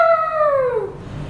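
A person imitates a wolf howl in a single rising-then-falling tone that slides downward and fades after about a second, loud and close, with no other talk.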